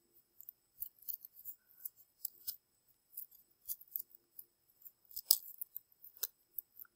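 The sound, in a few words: scissors cutting paper snowflake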